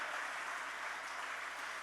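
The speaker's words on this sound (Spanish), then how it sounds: "¿Por qué no le damos un aplauso a Cristo por las generaciones que nos precedieron," A congregation claps in a church during a sermon, a steady, even wash of applause that holds for a couple of seconds, fairly soft and distant.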